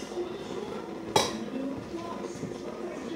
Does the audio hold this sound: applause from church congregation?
no